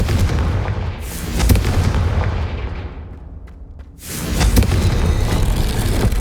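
Confringo fire spell blasting in the Hogwarts Legacy video game, heard as loud, booming bursts of explosion that fade into a rumbling tail and then erupt again in a second heavy blast.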